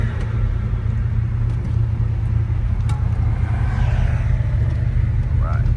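A 1967 Chevrolet Chevelle SS 396 with a V8 engine drives along, its low engine rumble steady and close throughout with no let-up.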